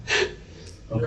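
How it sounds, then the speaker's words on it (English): A man gasping and hyperventilating in distress, two sharp, close breathy gasps with a short pause between them. "In between gasping for breath"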